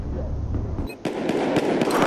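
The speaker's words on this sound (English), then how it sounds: "No, that was a big elevator explosion." A big elevator explosion in the Battlefield 4 multiplayer map Siege of Shanghai: loud booming blast, then a brief dip and a string of sharp crackling bursts and debris impacts in quick succession, no talk.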